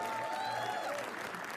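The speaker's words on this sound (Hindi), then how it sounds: "तालियां इनके लिए." Applause from a live comedy roast audience greets the next act, a short, soft, steady wash of clapping with a voice faintly over it.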